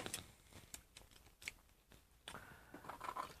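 Scissors snip through wire in a few quiet, separate cuts, each a short crisp click with faint handling noise in between, close by and alone.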